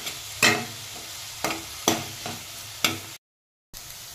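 Baby corn pepper fry with soy sauce being stirred in a pan: a series of distinct scraping stir strokes over a soft sizzle, close and clear, briefly cutting to silence near the end.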